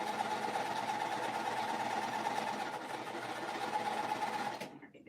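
Sewing machine stitching at a steady fast pace, a continuous whirring hum with a rhythmic needle chatter, fairly quiet and close, stopping abruptly at the end with no talk.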